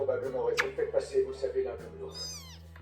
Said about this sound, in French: Ça miaule dans tous les sens là.